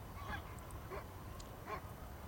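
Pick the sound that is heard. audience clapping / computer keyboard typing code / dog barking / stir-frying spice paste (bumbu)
dog barking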